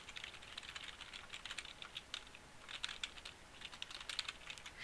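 Quick, uneven clatter of a computer keyboard as code is typed, with light clicks in short bursts and brief pauses, close but fairly quiet, with no talking.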